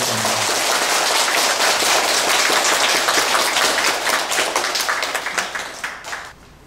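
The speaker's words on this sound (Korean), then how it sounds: "불자 여러분께서는 모두 큰 박수로 스님을 환영해 주십니다." An audience at a Buddhist Wednesday dharma service gives loud, dense applause to welcome a monk, with sharp overlapping claps sustained for several seconds before thinning out and stopping.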